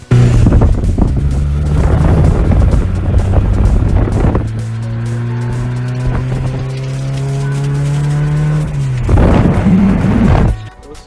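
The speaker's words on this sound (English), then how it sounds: "first ride on the GSX. This shit is rough." A 1999 Mitsubishi Eclipse GSX driving with no power steering, its engine droning loudly and steadily with a rising pitch during a long pull, then easing off, with wind rush on the microphone and no talk.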